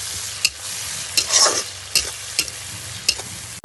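Onion and green chilli paste fries in a pan for a rui rezala, sizzling steadily while a spoon scrapes and stirs in several distinct strokes.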